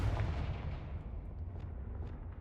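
A Confringo blasting spell goes off in Hogwarts Legacy: one booming, explosive burst with a rumbling low end fades steadily over a couple of seconds.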